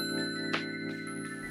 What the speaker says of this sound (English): if you hit this little notification bell